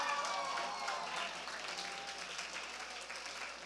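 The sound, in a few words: applause for prayer course graduates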